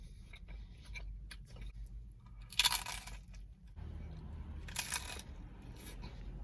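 Bites into a brick oven pizza crust with charred edges give two crisp crunches, followed by quiet close chewing, with no talking.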